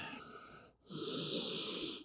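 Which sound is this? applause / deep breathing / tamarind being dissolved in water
deep breathing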